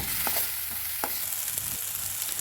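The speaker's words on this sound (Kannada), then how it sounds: "ಒಂದು ಟೊಮೆಟೊನ ಸಣ್ಣಗೆ ಹೆಚ್ಕೊಂಡಿದ್ದೀನಿ. ಅದನ್ನು ಸೇರಿಸಿ ಫ್ರೈ ಮಾಡ್ತಾ ಇದ್ದೀನಿ." Chopped tomato and onion fry in a pan with a steady, close hiss of sizzling, broken by a few light taps and scrapes of a stirring spoon, with no talking.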